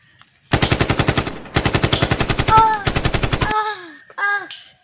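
Rapid bursts of automatic gunfire in three long volleys, loud and close, followed by game-like electronic tones and a short final burst.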